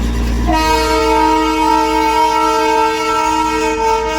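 A loud, sustained horn from the Darjeeling toy train blares after a brief rumble, holding one steady chord for several seconds close by, in snowy Darjeeling.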